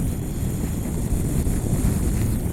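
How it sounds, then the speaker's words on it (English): Strong gusting wind roars steadily and buffets a motorbike on a road from Coyhaique toward Mallín Colorado, a loud, continuous low rumble with no let-up for the whole stretch. "that is a strong wind. You feel it battering you,"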